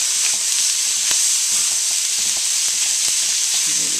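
Fried rice made with leftovers and seasoned with soy sauce sizzles steadily in a pan over high heat, a continuous close frying hiss with occasional crackles and small clanks, and no one talking.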